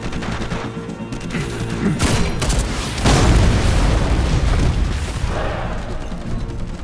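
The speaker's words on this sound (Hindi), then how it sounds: "फायर कर रहा हूं।" Dense gunfire and booming blasts in a war film battle scene, a continuous loud barrage of overlapping shots and explosions with no pause.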